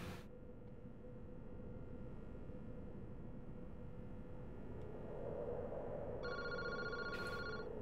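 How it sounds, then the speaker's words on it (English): An old-fashioned telephone rings in the video game Paranormasight, a steady electronic trill heard twice over a low, constant ambient drone. "Boss, that phone is ringing."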